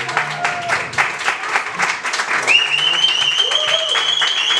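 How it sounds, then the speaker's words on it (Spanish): An audience claps for a flamenco dancer at a concert, warm applause filling the room as a high tone and some voices rise over it toward the end. "estos aplausos para ella"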